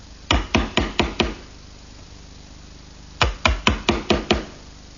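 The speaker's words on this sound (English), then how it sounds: "Now using a sharp chisel, I'm going to square up the bottom edge of all the mortises." A sharp chisel squares the bottom edges of wooden mortises for a plant stand. Two quick bursts of five crisp, sharp taps each ring out close and clear, separated by a quiet pause.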